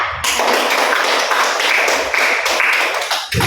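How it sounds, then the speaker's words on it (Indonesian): A classroom audience claps for a student group's presentation, dense steady applause starting abruptly and running close and loud for about three seconds before breaking off. "berikan aplaus dulu untuk presentasi dari kelompok 3 ya"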